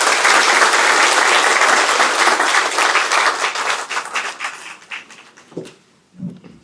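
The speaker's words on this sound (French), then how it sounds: "sous vos applaudissements" An audience at a Senegalese government ceremony applauds in a loud, dense burst of clapping that thins into scattered claps and fades out after about five seconds.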